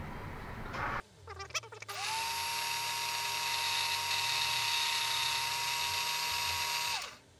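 A lathe cuts hot melt glue under oil, a steady high whine running several seconds after a brief start-up, close and continuous before spinning down.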